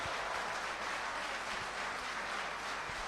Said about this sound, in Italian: Lasciamo spazio agli applausi